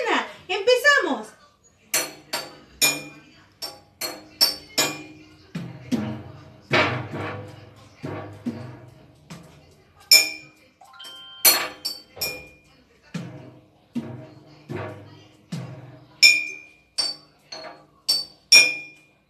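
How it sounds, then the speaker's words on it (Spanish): Children tap out rhythms on plastic bottles filled with water, making a series of sharp, bright clinks and knocks with uneven gaps between them. Some hits ring briefly in a higher pitch, and the sound is moderately quiet and close. "botellas de plástico con agua. Sí, y vamos a crear música."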